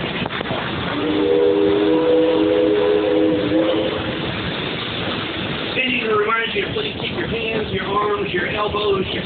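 An amusement park train whistle at Six Flags Over Texas in Arlington, Texas, sounds in a sustained, multi-toned blast for a few seconds, followed by someone speaking over steady rumbling engine noise.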